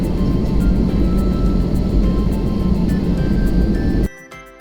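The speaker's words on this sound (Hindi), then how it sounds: "अब थोड़ी देर में फ़्लाइट टेक ऑफ करेगी" Loud, steady roar of a passenger plane on a Delhi to Kathmandu flight heard from inside the cabin, a dense rumbling drone that cuts off sharply near the end.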